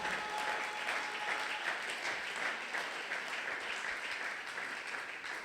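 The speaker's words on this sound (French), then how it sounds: "Est-ce que tu peux acclamer très fort pour Jésus?" A church congregation at a Sunday thanksgiving and praise worship service claps loudly, a dense and continuous wash of applause with no pauses.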